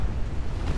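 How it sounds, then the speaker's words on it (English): An ammunition detonation on a warship in Ultimate Admiral: Dreadnoughts, a deep rumbling explosion heard as a brief, dense, low roar that holds steady for under a second. "Ooh, ammo detonation on the"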